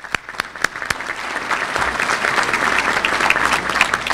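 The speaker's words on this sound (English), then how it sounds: "So give them a round of applause." An audience at a State of the City address breaks into applause, opening with a few sharp separate claps that quickly swell into a full, even round of clapping filling the room.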